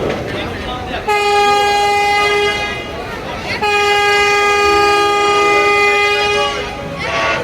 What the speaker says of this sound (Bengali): এমবি সুন্দরবন ষোলো সেও কিন্তু হর্ন বাজাচ্ছে